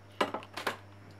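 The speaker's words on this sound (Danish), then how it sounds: "sætter en stor gryde" A large cooking pot is set down on a hob during a cookware test, making two quick metallic clunks with light rattling follow-ups, close by, over a steady low electrical hum.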